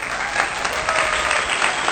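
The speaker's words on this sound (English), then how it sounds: "Cue clapping." Dense applause, a crowd clapping loudly and continuously for a short burst as a sound effect.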